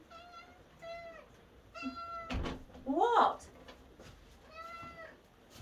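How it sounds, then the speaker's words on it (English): A pet cat meows repeatedly indoors after being let in, giving several drawn-out, close meows with pauses between them, alongside a door knock and a person speaking. "But it will be meowing because he'll want his food."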